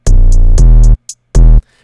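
Unprocessed 808 bass from a trap beat remake of a hip-hop song, loud and upfront, with long booming notes alongside crisp hi-hat ticks and a short gap before the last note.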